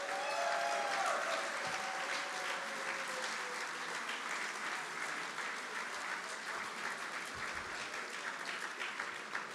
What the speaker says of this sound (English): we'll do a big round of applause for them